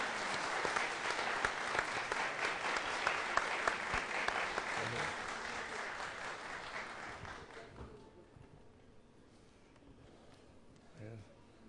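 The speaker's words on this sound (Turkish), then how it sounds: "Garip Hayda'yı alkışlarla alıyorum." A studio audience at a Turkish television program from Çorum breaks into loud, sustained applause that gradually thins and fades out after several seconds.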